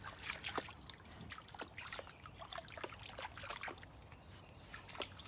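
Shallow stream water trickling and splashing over rocks, soft and fairly close, a continuous burble with small splatters and no talking.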